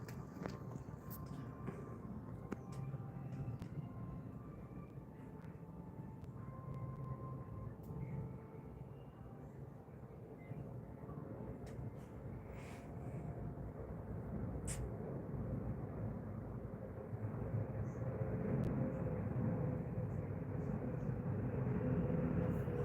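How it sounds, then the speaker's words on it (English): A plane passing overhead near London, a low steady roar that slowly swells in loudness over about twenty seconds, heard from a distance outdoors with no one talking. "Let's see what sounds like a bigger plane to me."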